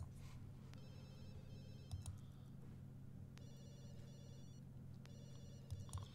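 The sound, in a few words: phone ringing in the video game The Sims 2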